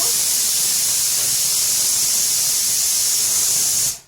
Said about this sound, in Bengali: এর মধ্যে আমি দেখো এক এক করে আলুগুলো ছেড়ে দেব।